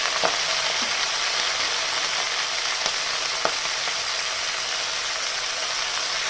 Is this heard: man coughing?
no